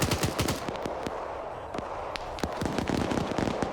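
Heavy gunfire in the video game Arma 3, dense bursts of sharp rapid shots crackling without pause, some near and loud, others more distant, forming a continuous fusillade.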